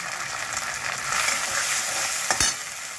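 Ginger and grated coconut frying in a pan with spices, a continuous close sizzle with scraping stirs and a sharp utensil knock near the end.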